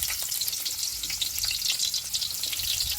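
Onions sizzling and frying in a hot pan, a close, continuous crackling hiss with occasional stirring noises and no talking.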